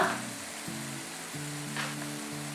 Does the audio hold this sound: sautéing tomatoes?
yes